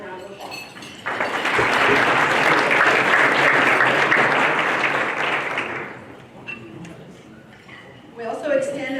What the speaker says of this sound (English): Please give all of our sponsors a warm round of applause.